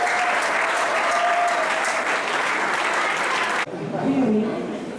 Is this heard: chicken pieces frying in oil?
no